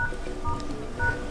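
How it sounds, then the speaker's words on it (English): Nokia 8.1 phone dialer keypad beeping as a secret code is entered: a few short, clear touch-tones spaced about half a second apart, close and alone. "So at first you have to open the phone dialer and we will start with the first code"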